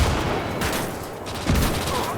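Gunfire bursts crackle during a World War II battle in the Gates of Hell strategy game, a dense fusillade of overlapping shots with a heavier thump partway through, no talking.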